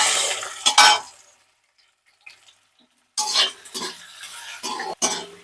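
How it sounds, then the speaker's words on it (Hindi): Ginger, green chili and onion hit hot oil in a home kitchen pan with bursts of sizzling and spoon stirring, a loud opening splash, a quiet gap, then renewed frying and scraping. "हमारा तेल हो गया गरम, हम उसमें डाल देते हैं अदरक, हरी मिर्च और प्याज।"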